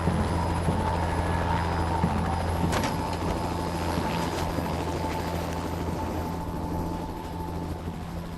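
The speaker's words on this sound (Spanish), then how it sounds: "Subieron al helicóptero." A helicopter in flight during a rescue over the Amazon, its rotor and engine making a loud, steady throbbing drone with a high whine on top, close and continuous, easing slightly toward the end.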